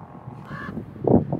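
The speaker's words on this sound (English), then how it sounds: "Sorry for the crows." Crows cawing outdoors at a windy hotel parking lot with Tesla chargers, two short harsh calls close by over light background noise.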